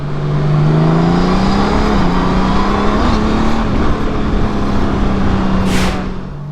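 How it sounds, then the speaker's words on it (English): A big Honda Gold Wing motorcycle accelerates hard in manual mode, its loud, close engine note climbing steadily as the throttle is twisted, then holding a strong drone. No speech. "Twisting this throttle, it has a lot of power to it, especially for being such a big bike."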